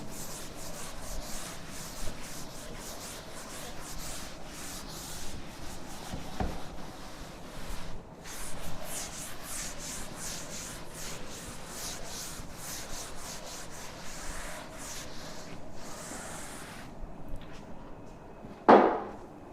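A board is wiped clean with steady, close rubbing strokes that continue in an unbroken scraping rhythm for nearly twenty seconds. A sharper knock sounds near the end, and no one speaks.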